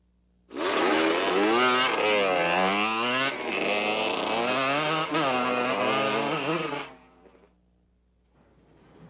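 Supercross motorcycles race a heat at the Hoosier Dome in 1993, their engines screaming loudly and continuously with rising and falling revs, then cutting off abruptly.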